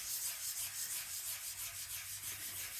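A Sizzix oil pastel is rubbed back and forth on a pearlescent surface, making a soft, rhythmic scratchy swish of quick even strokes, close and faint, with no talking.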